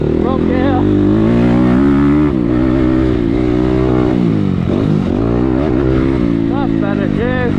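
A motocross motorcycle engine revs hard and continuously on a dirt track with jumps, its pitch climbing and dropping through gear changes and throttle shut-offs. It stays loud and close throughout, with no talk over it.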